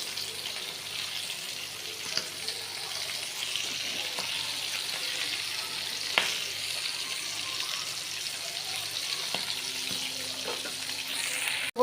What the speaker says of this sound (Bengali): আমি অল্প তেল দিছি আর অল্প একটু পেঁয়াজ দিছি